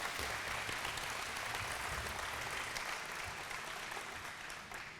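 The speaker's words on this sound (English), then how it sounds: "Another round of applause," Steady, dense applause fills a room at a mayor and council breakfast held at Scottsdale Airport, sustained throughout and tapering slightly toward the end.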